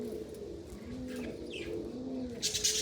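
Soft, low cooing from pigeons close by, a few rolling coos in a row, with a brief brighter chirp near the end.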